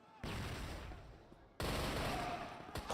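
Automatic gunfire spraying in the video game CrossFire, two long dense bursts of rapid shots separated by a short gap, loud and close, with faint commentary underneath.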